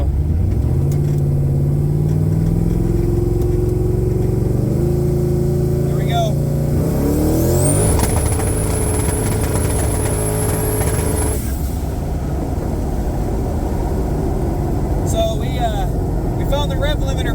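Twin-turbo 5.3L Starion drag race car engine on a boost test, loud and close, climbing in revs then holding a steady high pitch bouncing off the rev limiter before dropping back, with people talking over it.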